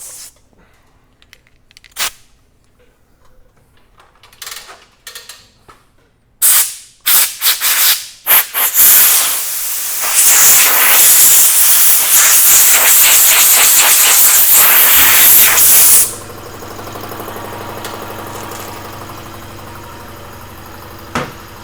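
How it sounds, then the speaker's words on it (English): A compressed air blow gun in a garage fires short hissing bursts, then a loud sustained blast of several seconds, close and harsh, fading to a quieter background hiss. "Where's our gun at? Our Blow gun right there."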